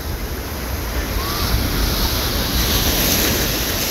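Ocean waves wash and break steadily at the beach, a continuous loud surf roar with wind rushing across the microphone throughout.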